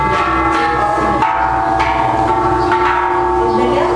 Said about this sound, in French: C'est assez bruyant parce que les enfants sont en train de jouer avec les cloches derrière.